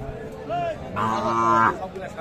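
Cattle at a livestock market in Matlab, where farmers trade young bulls and heifers, give a loud, close moo that swells and holds for most of a second, preceded by a shorter, softer lowing call.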